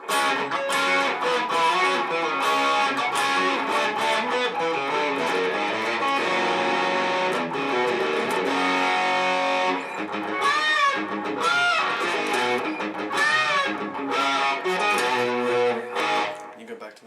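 A loud, driving distorted electric guitar riff played at full tempo, dense and continuous with rhythmic chugging and brief pauses between phrases.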